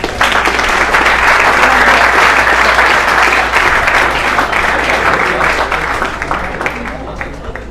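A church congregation applauds during a worship service, steady dense clapping filling the room for several seconds before slowly thinning out, with some voices mixed in.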